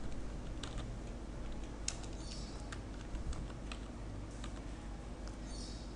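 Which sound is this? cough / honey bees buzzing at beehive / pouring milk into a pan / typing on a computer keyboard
typing on a computer keyboard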